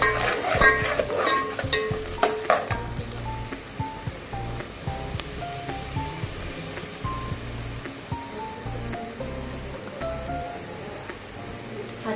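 Garlic and masala sauté in a pan with a continuous sizzle, while busy clattering stirring and utensil knocks crowd the first few seconds before the frying settles into a steadier hiss.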